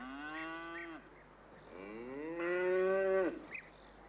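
Cows on a British farm low at milking time, two long drawn-out moos a second or so apart, the second louder and nearer, followed by a brief softer call against a steady background hum.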